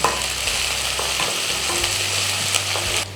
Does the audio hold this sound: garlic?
yes